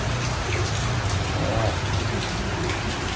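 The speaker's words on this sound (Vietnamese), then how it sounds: "Mưa bóng bóng đây kìa" Steady rain pours outdoors, a dense continuous hiss of drops hitting surfaces, with a low rumbling undertone throughout.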